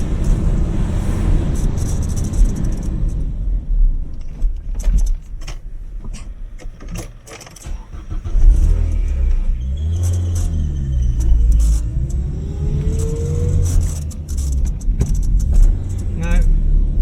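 A Renault 9 with a worn wheel bearing drives along, a steady low road rumble with a rising whine and small rattles and clicks from inside the cabin, with a voice speaking over it.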